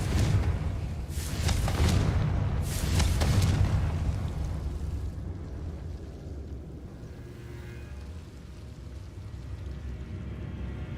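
The Confringo fire spell in Hogwarts Legacy sets off a few booming explosive blasts in quick succession, then fades into a low, rumbling decay.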